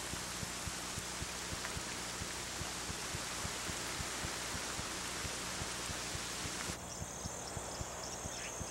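Dense, steady rain pours onto a tropical forest canopy, a continuous loud hiss of countless drops with no voices.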